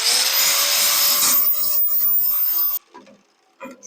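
Loud, continuous high-pitched grinding of a metal part for a 1.6-inch scale GP40 model locomotive, a whining abrasive screech that cuts off abruptly, followed by a few soft handling clicks.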